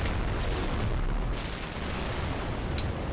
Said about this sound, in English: My dude shoot me with that missile pod